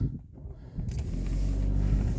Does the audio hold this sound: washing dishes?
no